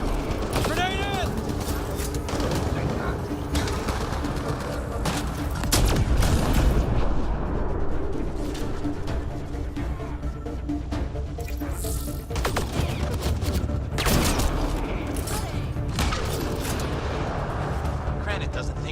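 A Mass Effect: Andromeda firefight crackles with dense, rapid gunfire, mechanical clanks and a grenade blast, continuous and busy over the whole stretch, with voices talking throughout.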